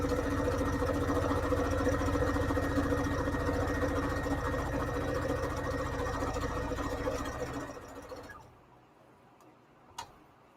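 A sewing machine stitching fabric strips for a string quilt, running with a rapid, steady mechanical ticking hum for several seconds, then stopping, leaving near quiet and a single small click.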